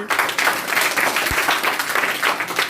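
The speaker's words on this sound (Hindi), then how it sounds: "बहुत अच्छी बात, इनके लिए भी ताली।" Classroom students break into brief applause for a classmate, a busy patter of many hands clapping close by with no talk on top.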